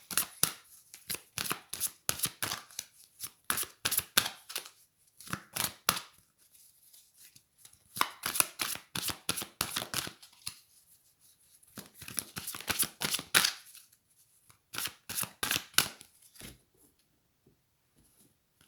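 Tarot cards are shuffled close to the microphone in quick crisp riffling bursts of flicks and slaps, separated by brief pauses as cards are drawn, with no talking.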